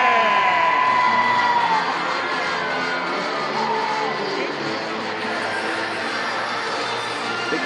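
Crowd cheering and shouting at a Savannah Bananas baseball game, a broad, sustained roar from a large stadium audience with children's shouts and whoops mixed in, steady and loud throughout.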